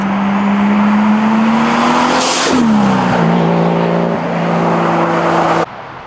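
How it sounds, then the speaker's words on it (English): A car flies by loud and close, its engine note climbing as it nears, then dropping sharply in pitch as it passes and roars away before the sound cuts off. "I hope you guys enjoyed that flyby, the sound clip."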